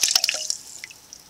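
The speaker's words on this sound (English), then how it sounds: "Jar out. Dump the water out of it." Water dumped out of a glass canning jar into a sink, a quick burst of splashing drips and trickles close by that tails off into scattered drops, with no talk.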